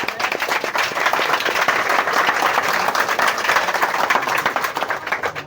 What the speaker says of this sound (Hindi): चलो एगो जोरदार ताली कर लो।